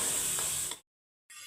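Chicken pieces frying for aloo gosht in an oiled pan hiss and sizzle up close, cut by a brief gap of silence before the frying resumes.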